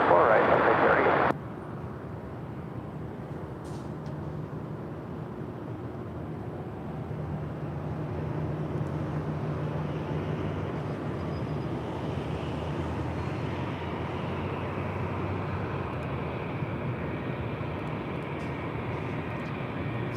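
A Delta Boeing 757 on landing at LAX runway 24 right, a steady broad jet roar holding at moderate loudness for the whole stretch after a brief louder burst at the start.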